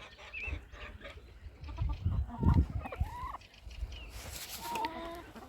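A hen in a backyard flock clucks in short, uneven bursts close by, with other farm birds calling faintly around it.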